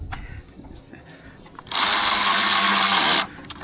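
A power tool rated at 80 foot-pounds of breakaway torque gives one loud, steady whirring burst of about a second and a half after quiet handling noises, then stops abruptly.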